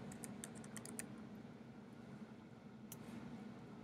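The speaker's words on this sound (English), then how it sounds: "if I click on the magnifying glass and I start typing in Excel" Quiet, steady typing on a computer keyboard, soft rapid keystrokes clustered in short bursts against faint room hiss, with no talking.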